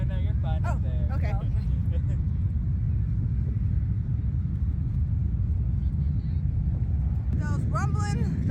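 Harley-Davidson motorcycles idle and rumble together before a charity toy run, a dense low engine roar filling the scene with people chatting over it.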